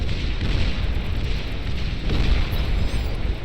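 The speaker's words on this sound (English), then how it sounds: "Shiva's launching their long-range plasma missiles." Long-range plasma missiles bursting in Beyond All Reason, a dense, continuous roar of overlapping booms and rumbling detonations with a heavier swell near the middle, no talk over it.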